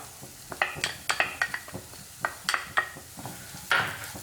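Sautéed onion with turmeric powder is stirred in a pan, giving a series of sharp spatula scrapes and knocks at an uneven rhythm over a soft, quiet sizzle, close and with no talk.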